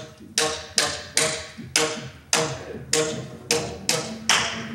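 Hand tapping a syncopated rhythm built from groupings of three, demonstrated in a talk on the music of Final Fantasy; eight sharp, fairly close taps at slightly uneven spacing, with no talking.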